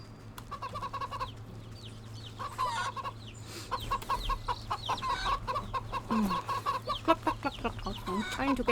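Chickens cluck repeatedly in a farmyard scene in the video game Wytchwood, with dense, overlapping clucks and short calls that grow busier and louder toward the end over a low steady hum.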